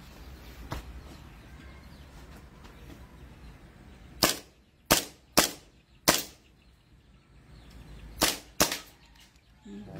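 Pistol gunshots at a firing range in Batangas City, six sharp loud reports in two groups, four spaced about a second apart and then two close together, with quiet background between shots.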